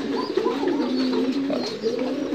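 A domestic pigeon coos close by in a soft, low, continuous warble of rolling throaty notes, with no talking.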